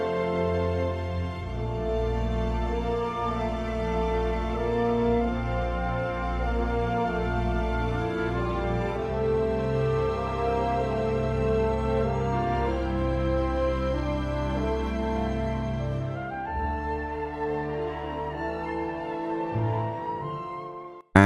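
An orchestrion roll from Final Fantasy XIV plays as a lush, sustained orchestral piece with layered strings and melody, steady and full throughout, and no one speaking over it.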